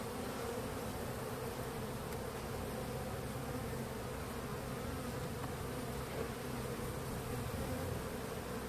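Anatolian honeybees at an opened hive after winter, a somewhat aggressive colony, fill the air with a dense, steady, close buzzing that holds at an even loudness throughout, with no talking.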